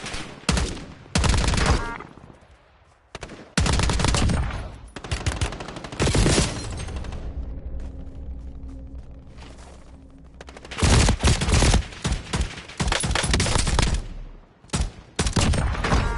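Gunfire in the video game Warzone: loud bursts of rapid automatic shots, then a quieter lull with a low rumble, and more heavy volleys at the end.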